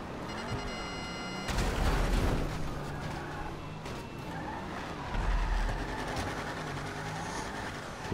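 A train passes in GTA V gameplay, a continuous loud rumble with rail clatter and squeal, swelling twice as cars rush by, under mixed game noise.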